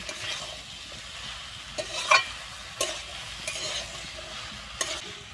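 Malabar spinach seeds are stirred into frying vegetables in a pan, a soft steady sizzle broken by a few distinct scrapes and knocks of the spatula against the pan.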